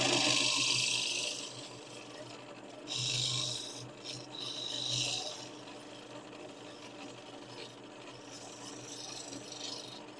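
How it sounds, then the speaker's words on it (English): A scraper held at a steep angle takes a shear cut on wood spinning on a lathe, giving a raspy, hissing scrape that swells and fades in several bursts over the machine's low hum. "scraper up at an angle, just getting that burr at a really steep angle to get a shear cut"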